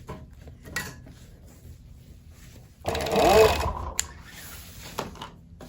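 A sewing machine runs a short stitching burst along the seam of a knife pleated Civil War skirt. It is close and brief, set among quiet handling noises and a voice speaking.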